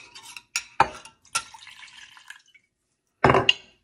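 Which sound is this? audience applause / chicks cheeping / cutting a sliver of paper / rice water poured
rice water poured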